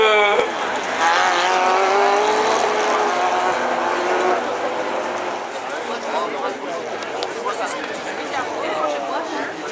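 Renault Twingo rallycross race cars launch off the start line together, a loud sustained engine roar with rising revving and tire noise that gradually thins, under a commentator's voice.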